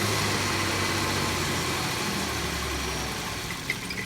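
A 2008 Chevy Equinox with a suspected fuel pump fault, heard as a steady, loud engine cranking or churning drone that holds for about four seconds and fades slightly at the end, with no voices.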